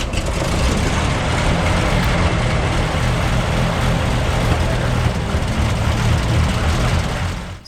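A 1938 Buick Special engine runs steadily, a loud, close, continuous low rumble with no other sounds, after an oil pan modification.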